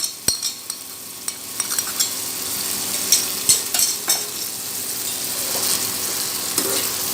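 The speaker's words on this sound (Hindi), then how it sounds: "ये हमने जो मैक्रोनी मसाला था वो मिक्स कर दिया इसमें।" Macaroni being stirred with macaroni masala in a hot pan, a spoon scraping and tapping the metal over a steady sizzle, close and fairly loud, with no talking.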